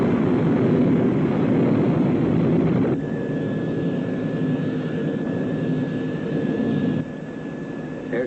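The Sky 1 aircraft from a TV series flies past with a steady jet roar and a thin high whine, its tone shifting partway through with no talking over it.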